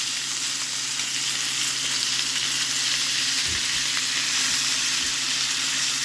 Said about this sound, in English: So now I'm going to add just some butter to it.